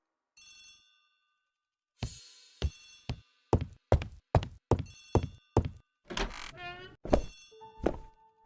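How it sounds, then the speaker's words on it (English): An old telephone rings in a hall in The ABC Murders game, a bell trill followed by a run of sharp knocking thuds and chimes, clear and close with no voices. "The telephone in the hall is ringing."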